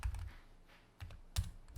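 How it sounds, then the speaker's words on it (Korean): A Tab key clicks a few times on a computer keyboard, with short, soft, close keystrokes spaced irregularly in an otherwise quiet room. "저 지금 키보드에 탭을 누르고 있는 중이고요"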